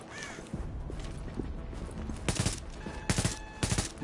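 Bursts of gunfire from The Division, a few spaced shots early, then a louder cluster of rapid overlapping shots in the second half, close and sharp over a constant game background.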